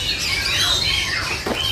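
Caged songbirds squawk and chirp continuously at a bird market kiosk, loud and close, with overlapping harsh calls and a few sharper cries near the end.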